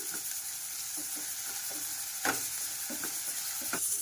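Ginger garlic paste frying in a pan for a pepper chicken, a steady soft sizzle with occasional scraping stir strokes close by, no voices.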